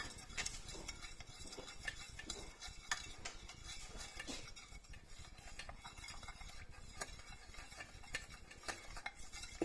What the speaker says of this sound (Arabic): كنبقى نحرك فيه حتى كيذوب.